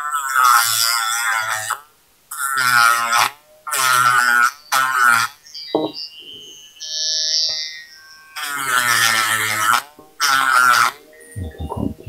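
A small mini sander trims a resin part of a 1/24-scale AMT kit of a 1959 Cadillac ambulance in short, close, buzzing bursts separated by pauses, with quieter fiddling sounds between them.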